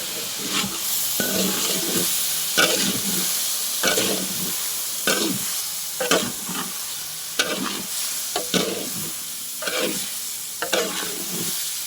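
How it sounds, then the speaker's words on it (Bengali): Rice being stirred and mixed into chicken korma in a hot pot, with rhythmic scraping strokes about once a second over a steady sizzle, close and loud, no talking. "ভালো করে মাখিয়ে নেব চালগুলো।"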